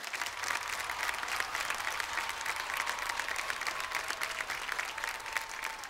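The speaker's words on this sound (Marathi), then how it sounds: "त्यांच्यासाठी जोरदार टाळ्या" An audience at an awards ceremony breaks into sustained, even applause for an honoured guest, many hands clapping together at moderate distance.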